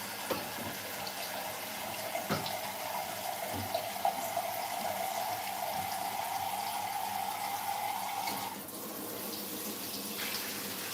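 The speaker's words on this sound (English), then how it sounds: "Now I'm putting the water in the nuts." Tap water pours steadily into a pot of raw groundnuts, a continuous hissing splash whose pitch rises as the pot fills, with a knock or two and a shift near the end.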